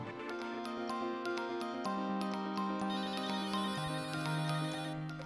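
A ringtone-style telephone ring plays as a continuous melodic electronic tune for several seconds, fairly loud and steady, with no voices over it.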